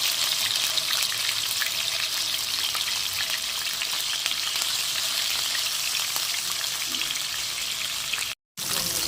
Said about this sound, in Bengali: কড়াইতে আমি সর্ষের তেল দিয়ে দেবো দিয়ে আমি মাছগুলোকে ভেজে নেব